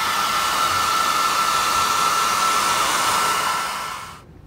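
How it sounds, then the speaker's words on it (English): A hair dryer blows steadily at close range while warming leather reenactor boots before waterproofing, a loud even whoosh that cuts off near the end. "now that we've preheated our leather a little bit, using the hairdryer, it's going to take a minute."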